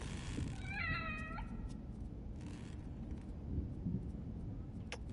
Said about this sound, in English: Hi, little kitty.